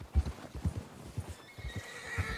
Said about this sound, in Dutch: Paardje heeft het zwaar.